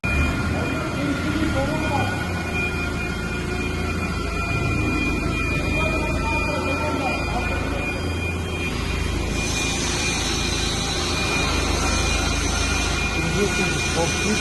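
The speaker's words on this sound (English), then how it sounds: "And now we'll bring the forklift and put it underneath." Forklift engine running steadily as it moves under an aggregate weighing hopper, a continuous loud rumble with hiss for the whole stretch and someone talking over it.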